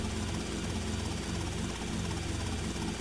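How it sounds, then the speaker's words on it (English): A helicopter from the video game Grand Theft Auto Vice City drones on without a break, a dense, loud whir of engine and rotor that stays steady throughout with no voices. "When you tap it, the helicopter will dip forward."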